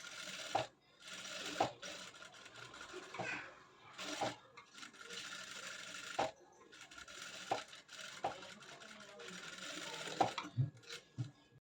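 A Jack F5 industrial sewing machine stitches in quiet bursts of steady mechanical whirring. The runs are broken by short pauses and sharp clicks as the work is adjusted, heard close up with no talk.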